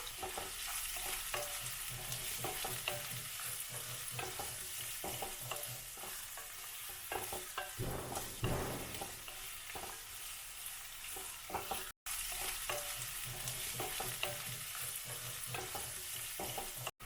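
Thin-sliced onions sauté in ghee with spices, a continuous soft sizzle with frequent clattering stirs and scrapes of a spoon against the pan, fairly quiet and close, with no talk.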